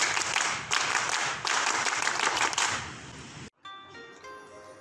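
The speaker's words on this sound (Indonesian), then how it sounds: "Tepuk pramuka." Children's scout troop doing a scout rhythmic group clap, heard as a dense burst of hand clapping that stops abruptly after about three and a half seconds, followed by a brief quieter tonal sound.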